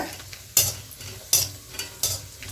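Whole cashew nuts are stirred as they roast in a pan, with three or four sharp scraping strokes over a soft, steady sizzle, close and without talk.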